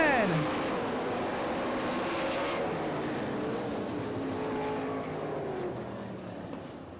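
Sprint race cars on the dirt track at the Knoxville Nationals roar past in a pack, engine notes sweeping and fading as they head down the straightaway, loud and continuous with a bit of wind.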